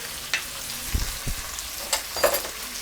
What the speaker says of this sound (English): and then toss the mushrooms with the butter